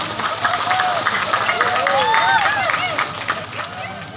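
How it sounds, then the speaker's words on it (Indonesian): Audience applause at a large Islamic religious gathering (pengajian akbar), a dense clatter of many hands filling the space, loud and steady, with crowd voices and chatter mixed in. "Tepuk tangannya dulu dong."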